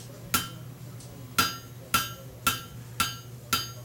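Hammer blows on an anvil horn as a fireplace tool handle is forged round, six sharp ringing metallic strikes at a steady, slightly uneven pace, close and loud over a low workshop hum.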